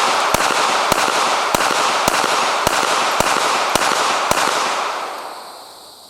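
Eight sharp, evenly spaced shots from a Smith & Wesson Bodyguard 2.0 micro pistol crack over steady outdoor background noise, each a loud broadband report, with the ambience fading away after the last shot.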